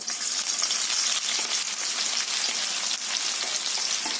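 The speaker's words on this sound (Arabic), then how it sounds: "فهنسيب الزيت يسخن وهنبدا نحط البصل" Onions frying in hot oil for Egyptian koshari give a dense, constant sizzle and crackle, close and loud throughout, with no voices.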